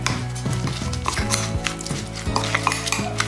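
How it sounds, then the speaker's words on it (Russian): A spoon scrapes and clinks against a bowl while stirring a paste-like dry spice mixture for salting pork fat, with quick, irregular knocks close up and no voices. "И все хорошо перемешиваю"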